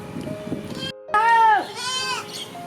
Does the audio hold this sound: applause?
no